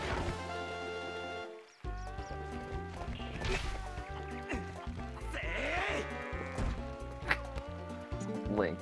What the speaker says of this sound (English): Whoa, a goat got loose. It's heading for town.